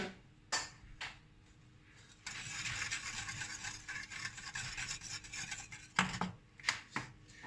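Nutmeg rasped on a grater over a béchamel sauce made with a litre of milk, a few isolated scrapes and then a steady, close rubbing stretch of grating, ending with more scattered strokes.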